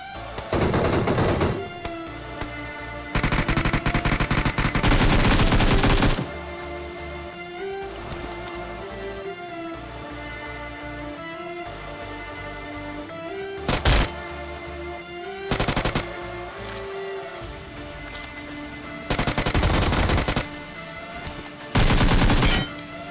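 Rapid bursts of gunfire in a mobile battle royale game fight during a Halloween mode match, loud repeated volleys separated by quieter stretches of game music and effects.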